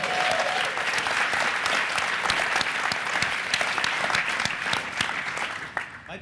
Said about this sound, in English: let's clap it up for Steve Smith.